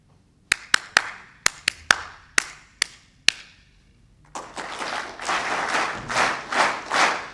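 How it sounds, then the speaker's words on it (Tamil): An audience at a talk first claps about nine sharp, separated single claps in a slow rhythm, then, after a short pause, breaks into continuous applause that swells and fades in waves. "நான் சொல்கிற மாதிரி கையை தட்டணும்"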